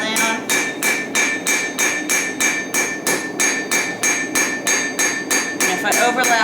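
Blacksmith's hammer falling lightly on hot steel over an anvil, about a dozen evenly spaced ringing blows in a steady rhythm, close and clear with no talk.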